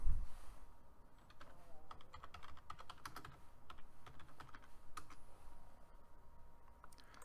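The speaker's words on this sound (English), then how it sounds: "I'm going to type in" Keys tap rapidly on a computer keyboard in quick irregular bursts, close and fairly quiet, with no voices.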